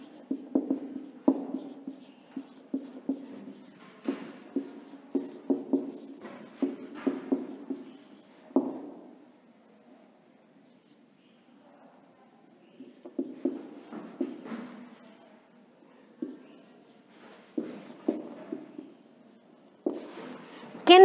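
Chalk or marker taps and scrapes on a classroom board in short bursts of writing strokes, fairly close, with a quiet pause midway before the scratching resumes.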